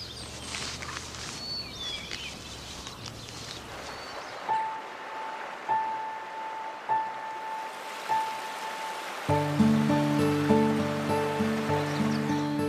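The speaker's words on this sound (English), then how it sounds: "Water flows again at last." Flowing river water on the upper Mississippi in spring, a steady broadband rush that is clearest at the start, then grows fainter as tonal, music-like notes enter and take over.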